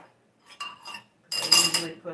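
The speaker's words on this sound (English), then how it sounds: "Now I want to get down to my plates so that I can start rinsing and kind of building my dish strainer situation." Ceramic plates and dishes clink and clatter during handwashing at a kitchen sink, a few soft knocks followed by a louder burst of stacking clatter, close by.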